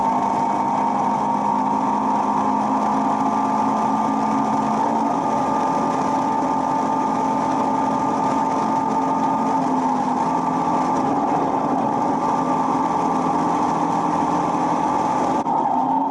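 A Caterham race car engine at full throttle on the Castellet circuit gives a steady, loud, buzzing drone with a slight pitch rise during an overtake, heard without any voices.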